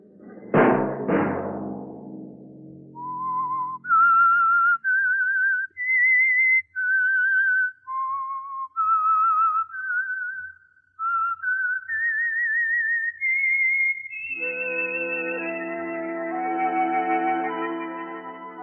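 A lone whistled melody, the radio program's theme signal, rises and falls in a clear sequence of sustained notes with echo, then settles into a long held tone backed by an orchestral chord.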